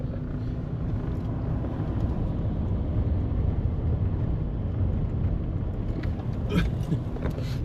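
Car driving along a poor, rough country road between farm fields, a steady low rumble of engine and tyres throughout with some rattling toward the end, no talking.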